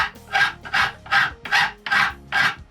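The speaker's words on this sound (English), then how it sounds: "Now when filing to a line," A hand file working an archtop guitar tailpiece, six even rasping strokes in a steady back-and-forth rhythm, close and fairly loud, with short pauses between strokes.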